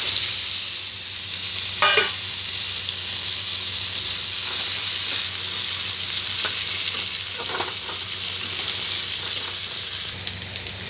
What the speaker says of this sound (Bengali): আলুটাকে ভালোভাবে লাল লাল করে ভেজে নেব